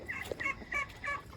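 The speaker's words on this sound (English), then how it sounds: "And there's the turkey, or one of them." A turkey gives a few soft, repeated gobbling calls at moderate distance, short bursts in a quick rhythm with a quiet outdoor background.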